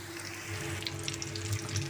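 Coconut corn sticks bubbling and sizzling steadily in hot oil, a continuous close hiss with small pops and a low hum underneath, no voices.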